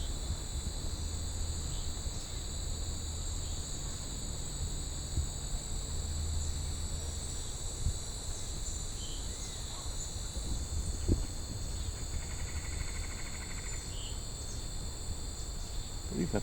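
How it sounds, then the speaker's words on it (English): Dog-day cicada droning in the summer woods of Dundas Valley, Ontario, a steady high-pitched continuous buzz over soft outdoor ambience with faint scattered bird notes. "There's a dog-day cicada."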